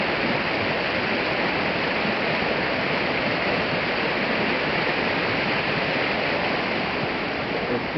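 The Meléndez River in Cali, Colombia rushes steadily, a continuous broadband roar of flowing current with no breaks or voices.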